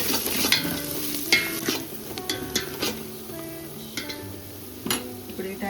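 Chili powder and spices frying in oil in a pot while cooking kushka rice, a crackling sizzle punctuated by scraping stirs and clinks of a spoon against metal.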